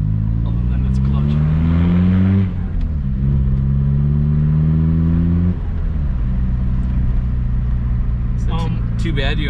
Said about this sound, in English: You do a little burnout.